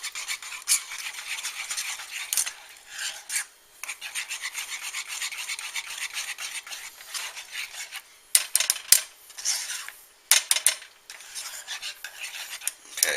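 A cream cheese sauce being whisked, with quick repeated scraping strokes of a whisk against the bowl or pan, in rhythmic bursts that grow sharper and more broken toward the end.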